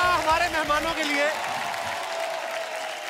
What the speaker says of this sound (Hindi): जोरदार तालियां हमारे मेहमानों के लिए